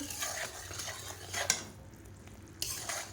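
Melting sugar in a pan over very low gas for a nut sandesh, stirred with a utensil, giving soft scraping strokes and clinks against the pan over a faint low sizzle.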